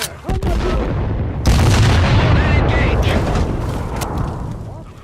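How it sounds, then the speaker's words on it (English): Explosions and gunfire from the World War II sniper video game Sniper Elite 3 fill the mix, a heavy booming blast and rumbling detonations layered with sharp shots, loud and continuous with voices shouting over the battle. "Explosion on the perimeter!"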